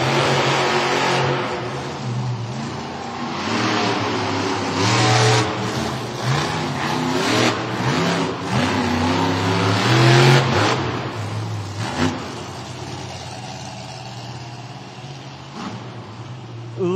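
The Vendetta monster truck's engine roars and revs through a stadium racing run at a Monster Jam event in Cleveland, with loud rising and falling throttle bursts, crowd noise underneath, and an announcer talking over it.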